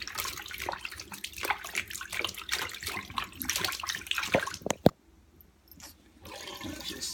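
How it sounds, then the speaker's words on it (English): Berries being rinsed in a bowl of water with veggie wash, giving close, irregular splashing and sloshing that stops abruptly near the end, leaving a few faint clicks. "And always wash your berries."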